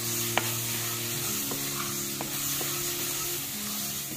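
Wet herbal hair-oil ingredients fry in a pan as they are stirred to drive off their water, giving a continuous close sizzle broken by occasional scrapes and taps of the spoon, with no talk.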